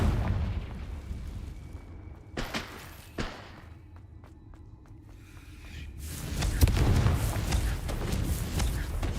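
A Confringo fire-blast spell erupts in Hogwarts Legacy, with booming thuds and a sustained roaring rumble that swells loudly toward the end, with no talking.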